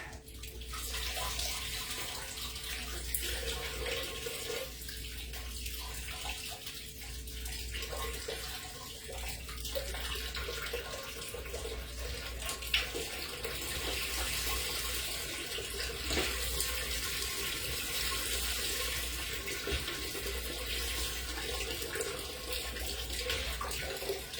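Water poured from large bottles into a mead fermenter, a continuous splashing and gurgling stream running steadily and close for the whole span.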